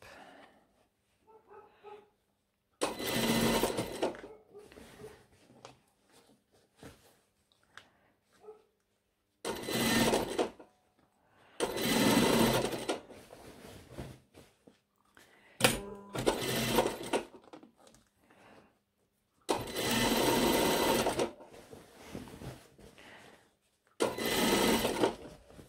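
A sewing machine stitches a thick blazer sleeve in loud, close bursts of fast mechanical whirring, separated by quiet pauses with small handling clicks.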